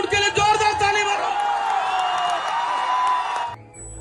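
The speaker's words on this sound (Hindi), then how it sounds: "धर्मेश आया, उनके लिए जोरदार ताली मारो।" Crowd at a dance event in Bombay cheering and whooping loudly, a dense continuous roar of voices with shouts that cuts off abruptly near the end.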